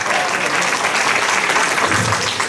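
Dense, steady applause from an audience at an Italian book presentation fills the whole stretch, loud and close with no pauses.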